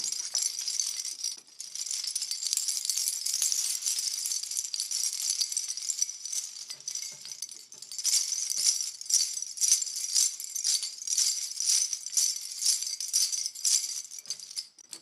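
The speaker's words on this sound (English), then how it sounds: "bottle cap rattle." A continuous metallic rattle of a bottle cap being shaken, bright and busy, with rhythmic bursts of clatter throughout and no talking.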